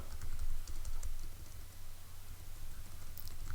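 Keyboard typing while C code is written, a quick steady patter of key clicks running throughout with no talk.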